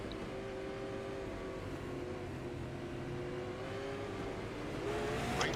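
Super late model race cars in the iRacing video game drone together at a restart, a fairly quiet, steady engine hum that swells a little toward the end.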